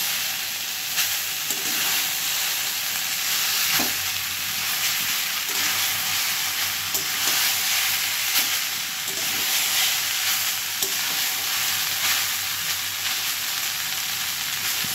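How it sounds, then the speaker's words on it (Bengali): Boiled chow mein noodles being stir-fried and tossed in a hot pan give a steady, loud sizzle with a constant hiss and scattered scraping knocks from the stirring, with no voices. "তো চাউমিনগুলো দিয়ে সুন্দর করে নাড়িয়ে নাড়িয়ে ভাজবো"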